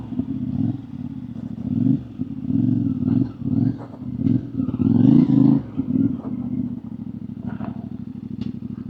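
A CFMOTO 450MT IBEX adventure motorcycle engine rumbles and revs repeatedly, loud and close, with throttle blips rising and falling over a steady idle.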